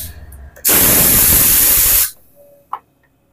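A single loud burst of pertalite fuel sprayed from a can onto a Honda Beat scooter's engine to check for leaks hisses for about a second and a half, then cuts off, followed by a faint click.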